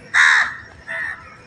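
A crow caws twice outdoors on a morning walk: a loud, harsh first call, a short pause, then a slightly softer second caw, with no talking.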